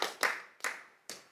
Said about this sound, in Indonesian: Tepuk tangan dong nanti ya